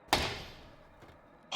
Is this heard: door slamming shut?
yes